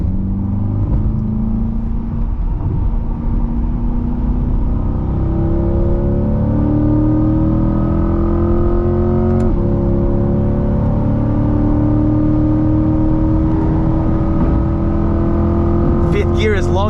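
Chevrolet C8 Corvette engine pulling steadily in a long fifth gear at night, a loud continuous drone with rising harmonics as speed builds, under occasional talk inside the cabin.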